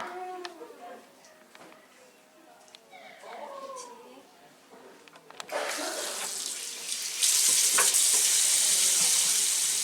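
Gentle running water rinsing a scalp after an FUE hair transplant at a clinic in Seoul, a quiet trickle that swells into a loud steady stream of spray, with a voice talking over the first half.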